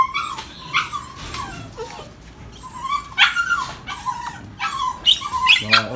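A small male brindle Phu Quoc puppy whimpers and yips in short, high cries that come in several bursts, close by, with a longer rising howl-like call at the end.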